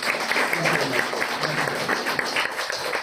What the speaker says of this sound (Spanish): un doble aplauso para el profesor